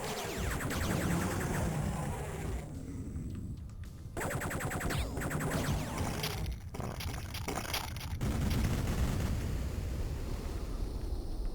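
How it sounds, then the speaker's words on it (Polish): In Duke Nukem 3D's Lunar Reactor level, an explosion brings a corridor down with dense, roaring crashes and rumbling debris. The noise comes in loud bursts broken by sudden cuts, with no speech. "Na szczęście wybuch odblokował nam dalszą drogę."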